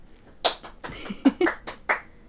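A few sharp hand claps at a podcast recorded in a bedroom, several separate smacks spaced unevenly over a couple of seconds, close and fairly loud.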